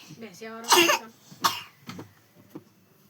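Two harsh coughs from an elderly woman ring out close by, one after the other, followed by a few quieter throaty sounds, with a voice heard briefly at the start.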